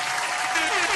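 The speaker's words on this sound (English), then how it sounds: "We're gonna throw another round of applause for her." Brief burst of applause from an audience for a singer, dense steady clapping with crowd noise and a voice faintly over it.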